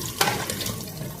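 Cloudy water from a home water-filtration science kit experiment poured out into a sink, a steady close splashing rush with a brief sharper splash near the start.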